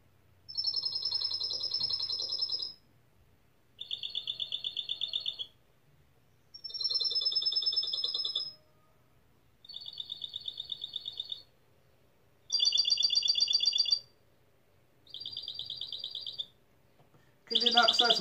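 A goldfinch sings in clear, separate bursts of bright metallic trills in the cascabel and campanilleo styles, about seven phrases with short silences between them, close and loud with no voices.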